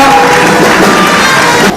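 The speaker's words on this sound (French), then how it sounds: "On applaudit le lycée Chaumba." Audience at a school theatre improvisation match applauding a high school team, a dense continuous wash of clapping and cheering that cuts off abruptly near the end.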